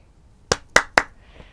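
Three crisp, evenly spaced hand claps sound up close in a quiet room, followed by a much fainter fourth clap, with no speech.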